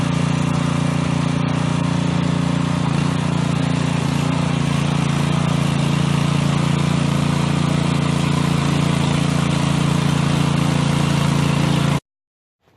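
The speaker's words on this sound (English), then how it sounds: "So let's bust out the tiller and I'll show you guys what I mean." A garden tiller's small engine runs loud and steady up close, a constant droning hum with a throaty low rumble that holds evenly for about twelve seconds before cutting off abruptly.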